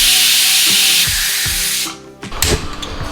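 A pressure cooker cooking ghee dal whistles with a loud, sustained, hissing jet of steam that cuts off sharply partway through, leaving clattering kitchen noises behind.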